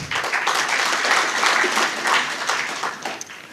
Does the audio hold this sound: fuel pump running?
no